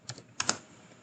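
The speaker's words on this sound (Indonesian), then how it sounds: "Yaitu kita ketikkan seperti ini." Typing on a computer keyboard in a Windows command prompt: a short burst of a few quiet keystrokes, two close together near the start and a denser cluster midway, with no talking.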